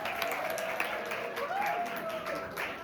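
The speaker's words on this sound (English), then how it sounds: "can we have a big round of applause for Pratyush Upadhyay, everyone?" Audience applause for a speaker at a business communication pep talk, a fairly faint, steady patter of clapping throughout, with a voice briefly audible over it.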